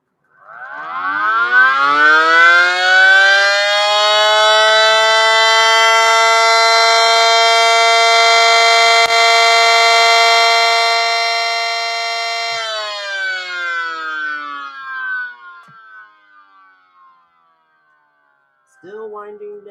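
A loud Cyclone civil defense siren spins up to a sustained wail, holds, then winds down in a long falling moan; a brief voice is heard at the end.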